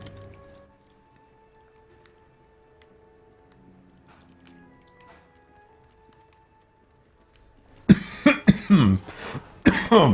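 After a long near-silent stretch with a faint hum, someone coughs loudly several times in a rapid, harsh burst close by.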